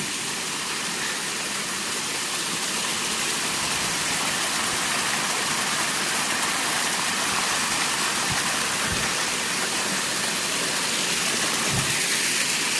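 A large waterfall pouring across the Appalachian Trail, a loud continuous broadband roar of rushing water with no pauses, close by and alone.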